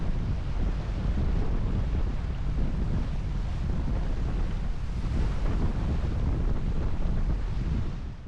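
Strong steady wind roars across the microphone aboard a sailboat racing in about 17 knots of breeze, a dense, unbroken rush with water noise blended beneath and no voices.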